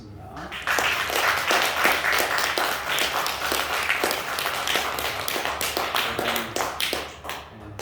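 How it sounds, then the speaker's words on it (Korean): A congregation at a New Year's Eve church service claps together, a dense, fairly loud round of applause that holds steady for several seconds before thinning out into scattered claps at the end. "박수 한번 하겠습니다."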